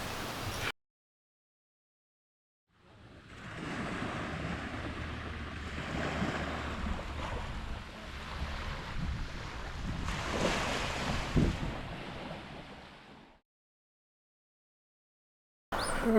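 Ocean waves wash steadily onto a Gulf Coast beach with wind buffeting the microphone, a continuous broadband rush lasting about ten seconds between silent gaps, with no talking.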